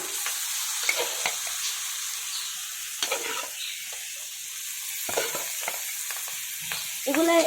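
Boiled rohu fish roe frying in a pan while being stirred, a soft steady sizzle with repeated scraping strokes of a spatula, close, and a louder scrape at the end, with no talk.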